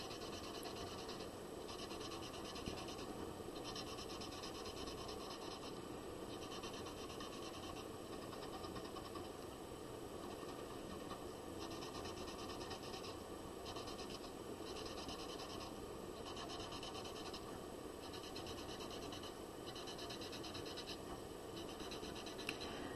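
A brush rubs watercolor across paper on a Zentangle tile, producing soft, repeated scratchy strokes in an even rhythm, faint and close with no talking.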